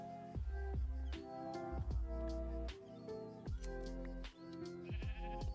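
Several sheep bleats from a Minecraft sheep, repeated in short bursts over steady game music, close and clear.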